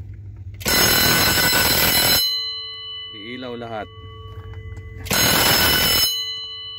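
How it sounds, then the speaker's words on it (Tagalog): A relay-based alarm panel sounds its test bell in two loud, sustained ringing bursts of roughly a second and a half each, separated by a short stretch where someone speaks briefly over a low steady hum. "Kaya mag-hold talaga kailangan yung alarm test nya."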